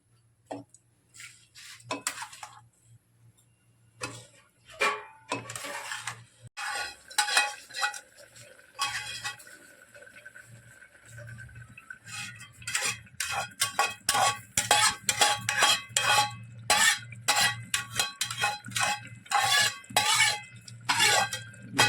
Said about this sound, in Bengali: এবার আমি চালটাকে এর মধ্যে একটু একটু করে দিয়ে দেবো